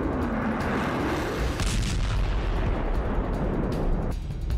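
Missile and bomb explosions during a military exercise, heard as a continuous loud rumbling roar with heavy low booms rolling into one another and no speech.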